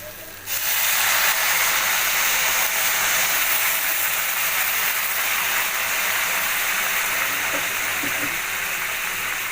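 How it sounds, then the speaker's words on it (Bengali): Hot water is poured into a pan of cooking papaya and potato curry, setting off a loud, steady hiss of steam and sizzling that starts abruptly and carries on without a break. "এবার আমি এর মধ্যে আগে থেকে করে রাখা গরম জলটা ঢেলে"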